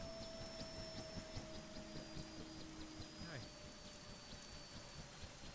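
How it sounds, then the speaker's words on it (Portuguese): Steady rain hiss fills the scene in the video game Arma 3, alongside game sound effects and a few tonal hums, with a voice talking over it. "tá chovendo, cara?"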